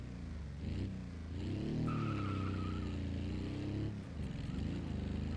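Flat-two engine car in a video game revs up and holds a throaty, mid-loud drone, then eases off and picks up again, with a brief squeal-like tone partway through.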